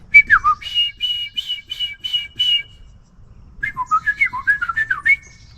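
A person whistles an imitation of a song sparrow's song, two bright trilled phrases separated by a short pause, clear and close with no talking.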